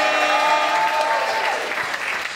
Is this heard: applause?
yes